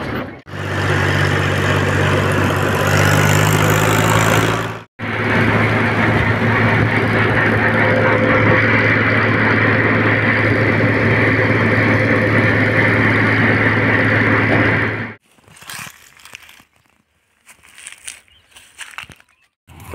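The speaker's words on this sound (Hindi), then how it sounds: "चालू करते हैं इस ट्रैक्टर को, निकलते हैं खेत की ओर।" A farm tractor engine runs steadily on the way to the field, a loud low drone that cuts out briefly, resumes, and then gives way to scattered quieter rustling and knocks.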